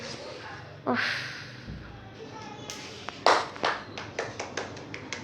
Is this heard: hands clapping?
yes